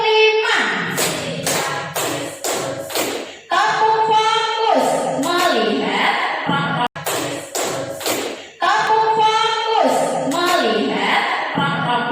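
Teacher and participants in a classroom perform a call-and-response clapping chant, with bursts of sharp synchronized claps in counted groups alternating with loud spoken and chanted calls, repeated in cycles.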